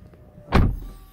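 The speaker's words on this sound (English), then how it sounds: "So this is the inside of my Rolls Royce and automatic" A Rolls-Royce's automatic door operates with one brief whirring, thudding motion that swells and then fades, close and clear, with no one speaking.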